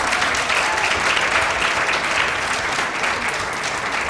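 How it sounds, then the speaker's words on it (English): An audience at a youth empowerment gala applauds. The clapping is loud and sustained, a dense, even roar of many hands that holds steady throughout with no talking over it. "Give him a round of applause."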